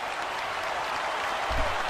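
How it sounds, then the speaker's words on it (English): Studio audience on a sports talk radio show gives a steady, moderately loud round of applause, a dense even patter of many hands without any voices. "Ladies and gentlemen, a big round of applause for Alvin."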